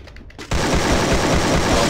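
Garena Free Fire gunfire: after a brief quiet lead-in, a loud rapid automatic burst starts and runs steadily to the end, close and continuous.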